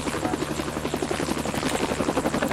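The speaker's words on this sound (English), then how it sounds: "Up here is the helicopter definitely landing right now." A helicopter lands nearby during an ambulance service shift. Its rotor beats in a loud, rapid, continuous rhythm, with no voices over it.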